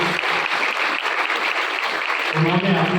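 A crowd claps loudly and steadily for Dr. R K Mehta at a CPR training camp, dense applause running throughout, with a voice emerging near the end.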